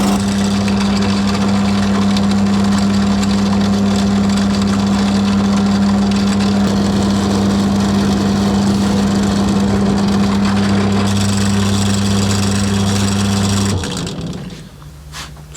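A power drill bores holes into a guitar body for a Harmony Stratotone-style build, its motor holding a loud, steady hum for about fourteen seconds before it winds down and stops.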